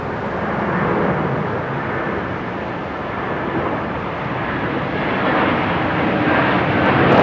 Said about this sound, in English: So this is the quite rare Air Canada 330.